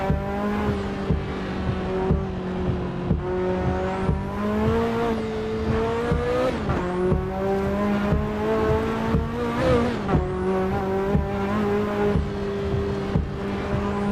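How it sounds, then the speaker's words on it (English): A car engine in a driving video game revs hard and steadily, climbing and dropping through repeated gear shifts, with brief tire squeals along the way. "the sound of this car is pretty cool"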